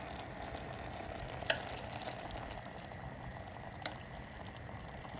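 Kebab halla with potatoes simmering in a pot after hot kettle water is added, a steady soft bubbling and sizzling hiss with a couple of faint clinks, close by, no talking.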